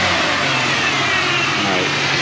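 A 2003 Pontiac Grand Prix GTP engine runs with a steady, broadband mechanical roar, close and fairly loud, holding an even level throughout with no clear revs or pauses.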